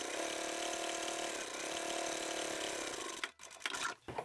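A sewing machine top stitches through fabric and vinyl on a handbag, running in a steady continuous whir for about three seconds before stopping, followed by brief handling noises.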